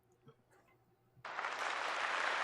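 A canned applause sound effect on a talk show bursts in suddenly after a moment of quiet murmuring, then holds as a loud, dense crowd cheer to the end.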